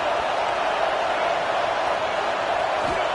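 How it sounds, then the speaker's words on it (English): Stadium crowd noise from an American football video game, a steady, dense roar filling the whole clip without pause, loud and continuous like a packed arena urging on the defense. "Listen to this crowd just shaking the girders of this place"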